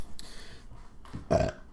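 A single loud, guttural human burp breaks out near the end, preceded by a few quieter throaty noises, with no talking around it.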